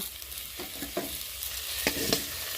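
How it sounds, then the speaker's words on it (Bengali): Okra slices fry in hot oil in a pan and get turned over, a soft steady sizzle with a few scraping stirs and light clinks, fairly quiet and close, with no talking. "এটাকেও একটুখানি আমি এপিট ওপিট করে ভেজে নিব"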